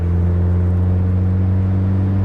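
A 1996 British Racing Green Mazda MX-5 on Olin coilovers cruising over a smooth road, its engine and drivetrain giving a steady low droning boom that holds level throughout, close and fairly loud with no talking.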